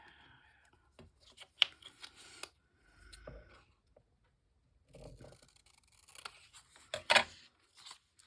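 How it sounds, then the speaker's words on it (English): Scissors cutting paper during a paper craft, with a few crisp snips and scrapes spread through the stretch, faint and close, and quiet handling noises around them. "So if I cut it about right there where those white dots are."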